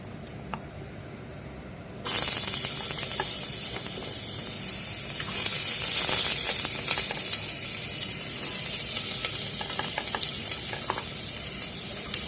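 Chopped vegetables for a garlic-free, onion-free mixed vegetable sabzi hit a hot pan with cumin, bursting into a loud, bright sizzle after a quiet moment, then crackling steadily with a few stirring clinks.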